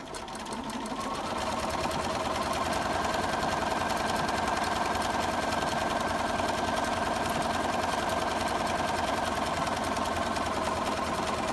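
A sewing machine with an open-toed embroidery foot and needle-down setting hums loudly and steadily while sewing an outline stitch, its rapid needle rhythm unbroken from start to finish.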